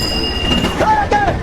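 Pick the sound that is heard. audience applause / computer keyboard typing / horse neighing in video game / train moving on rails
train moving on rails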